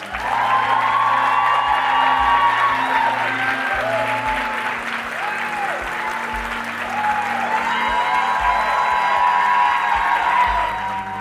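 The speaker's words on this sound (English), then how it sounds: "Can we do a huge round of applause?" A large audience breaks into a huge round of applause, steady dense clapping with a few whoops and cheers, loud and sustained from start to finish with no talk over it.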